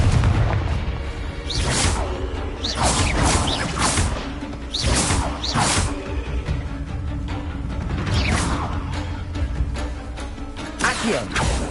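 Repeated booming blasts from Confringo, the fiery blasting spell in the Hogwarts Legacy video game, burst out every second or two over a dense, continuous rumble of crashes and whooshes, loud and close throughout.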